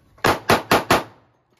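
A Glock 29 pistol fed from a Glock 20 magazine with an X-Grip, shooting Federal ammunition, fires four loud, close, evenly spaced shots in quick succession, then stops short on a failure to feed.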